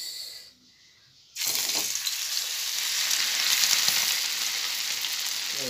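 Vanjiram fish pieces fry in hot oil for an Andhra masala fish fry, giving a loud, steady sizzle that rises abruptly after a brief quiet moment and holds without talk.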